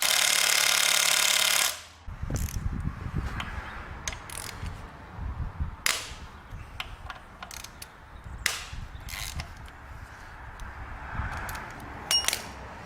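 A 12mm bolt being loosened on a Toyota engine during an engine replacement: a loud burst of mechanical noise, then a run of sharp ratcheting clicks and metallic knocks, close by and with no talking.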